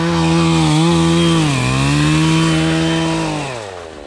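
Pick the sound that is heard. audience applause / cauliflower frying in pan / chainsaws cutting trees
chainsaws cutting trees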